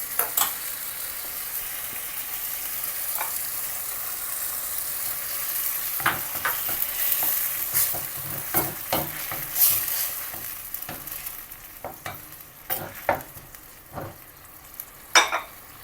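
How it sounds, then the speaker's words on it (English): Browned onions and garlic with added tomato juice fry in a pan, a steady soft sizzle with a bright hiss and scattered sharp clinks and scrapes of stirring that grow more frequent toward the end. "So we let this fry for a little while."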